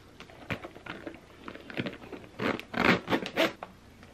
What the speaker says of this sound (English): let's go ahead and unzip in.